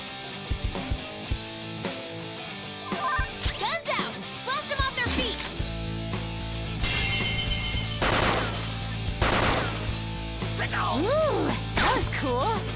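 Gunfire in the Persona 5 Royal video game: bursts of shots and crashing impacts among music and effects, with character voices talking throughout.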